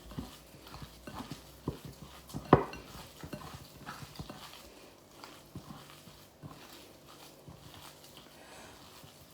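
A spoon stirring and scraping ingredients with salt in a bowl for chicken santana: quiet, irregular clinks and scrapes, with one sharper knock partway through and a fading stretch of soft stirring.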